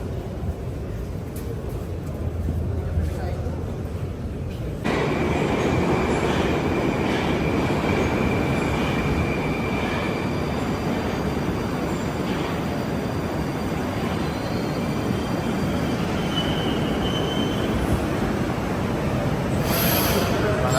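A metro train rumbles through a Russian station with a dense, steady roar and faint high wheel squeal. The roar grows louder after a few seconds and stays constant throughout, with no voices.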